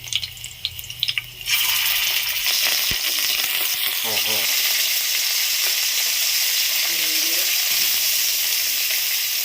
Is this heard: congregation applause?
no